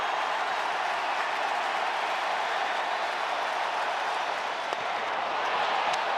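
A baseball stadium crowd at a Cubs–Brewers game in Milwaukee rises and cheers, forming a steady, dense roar of voices and scattered clapping that holds at one level from start to finish.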